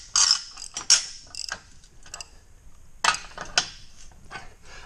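A wrench ratchets a bolt tight against a lock washer on a hay unroller build, with short bursts of clicking and a few sharp metallic knocks, close and spaced by pauses.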